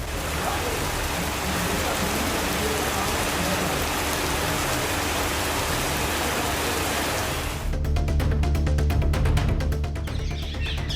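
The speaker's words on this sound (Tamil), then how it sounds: "மிதமான மழை பெய்ததால் வெப்பம் தணிந்து குளுமையான சூழல் நிலவியது." Moderate rain falling in an outdoor setting, a steady broadband hiss of drops on surfaces that stays even throughout.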